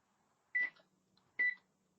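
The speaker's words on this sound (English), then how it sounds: "I hope you enjoy the beeping noises of my oven." A microwave oven gives two short, clear electronic beeps about a second apart while its clock is being set, each one alone against a quiet room.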